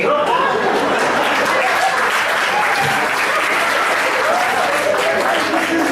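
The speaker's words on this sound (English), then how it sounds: "No, you're clapping, I like it." An audience at an industry interaction session claps loudly and continuously, a dense wash of applause with scattered chuckles and voices mixed in.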